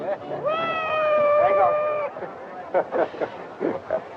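A cat meows in a long drawn-out cry, fairly close, followed by murmured voices and light background bustle.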